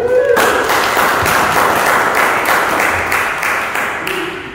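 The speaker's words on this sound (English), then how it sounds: "Give me a round of applause." A courtroom audience in a colonial-era reenactment gives a round of applause, loud and close, sustained clapping that begins abruptly and carries to the end with little letup.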